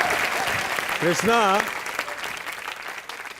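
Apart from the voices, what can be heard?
studio audience applause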